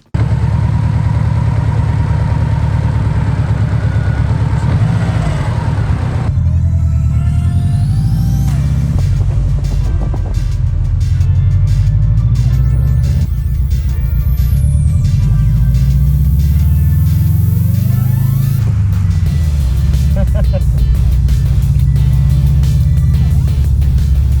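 A stock Subaru WRX STi being driven: a loud engine heard from inside, revving and accelerating in rising and falling sweeps through several gear changes, steady and continuous with no talking.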